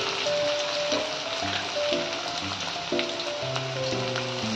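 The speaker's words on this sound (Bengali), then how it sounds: "এই তেলে আমি তেল গরম হয়ে গেছে, পেঁয়াজ ফোড়ন দিচ্ছি, রসুন ফোড়ন দিচ্ছি" Chopped onion and garlic sizzle steadily in hot oil in a pan, a close, continuous crackling fry with no talking.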